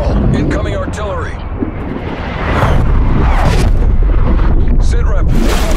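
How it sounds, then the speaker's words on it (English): An incoming artillery strike in a military shooter game lands as a heavy rumbling explosion that swells midway and holds loud, with radio-style voice callouts layered over the blast. "Incoming artillery."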